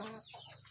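Backyard chickens give a brief, close cluck or two, short and fairly soft, with no talking.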